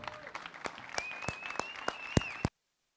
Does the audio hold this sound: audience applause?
yes